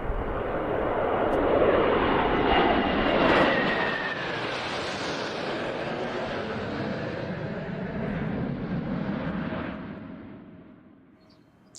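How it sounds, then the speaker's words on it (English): A Black Eagles display aircraft roars overhead during a rehearsal, a loud broad jet rush that peaks early, then lingers as a long receding roar before fading. "the aircraft flying right over you"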